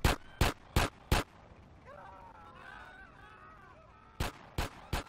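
Gunfire in the video game GTA San Andreas: four sharp, loud shots in quick succession, a stretch of warbling game sounds over a steady background hum, then three more shots.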